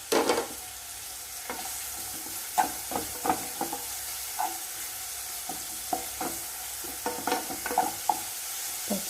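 Green chilies frying with sautéed onions in a pan for Kerala egg roast, a soft continuous sizzle broken by repeated scraping stirs of a spoon against the pan, close and clear, no one talking.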